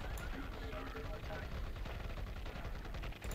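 Defense towers in the PC strategy game Dark Colony fire dense, continuous rapid gunfire, loud and unbroken throughout, with a voice speaking over the shooting.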